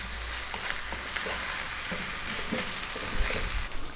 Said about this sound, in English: That is the rice frying.